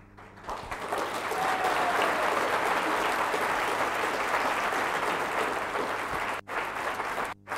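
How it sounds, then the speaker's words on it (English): Audience applause after a magic trick by a corporate magician, a full, loud burst of clapping that swells quickly and holds steady, cut off abruptly at the end. "when this works, I would like you to applaud loudly."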